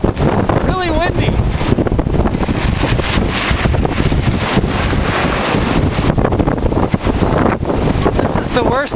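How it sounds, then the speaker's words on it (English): Strong wind gusting hard across the microphone in a Chicago blizzard on a city street, a loud, steady roar that fills the whole clip, with brief voices at moments. "It's really windy."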